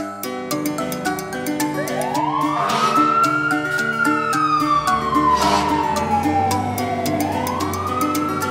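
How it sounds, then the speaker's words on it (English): A fire engine siren wails loudly and steadily, its rising and falling tone sweeping up and down over a continuous background of engine noise. "Fire engine."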